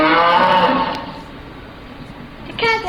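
Cattle moo loudly and close by, one long drawn-out low call filling most of the moment, with a brief second call starting at the end.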